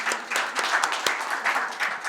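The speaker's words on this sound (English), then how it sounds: "Let's give them a quick round of applause" A live audience at a SaaS sales talk applauds, a dense steady wash of many hands clapping with a few sharper individual claps standing out, sustained and fairly close with no talk over it.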